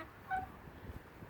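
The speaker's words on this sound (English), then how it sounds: "say hello to some chickens" Chickens on a cold winter day give a brief squawk up close near the start, followed by soft low clucking and scratching for about a second.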